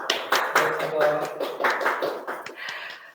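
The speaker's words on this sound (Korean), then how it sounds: "저희끼리 우선 박수로 마지막을 맺었으면 좋겠습니다" Applause closing a session of a 2021 Korean sports industry jobs conference: scattered, uneven clapping from a small group that swells and then tapers off.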